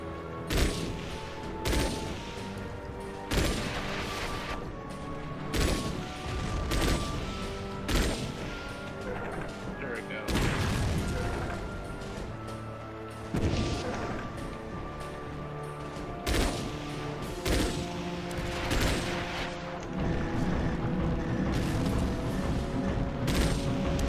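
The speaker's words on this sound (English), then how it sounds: "Howitzer fire." Howitzer fire in the mech combat game Chromehounds: repeated heavy booming blasts at irregular intervals, loud and close, with rumbling crashes and a steady droning hum underneath.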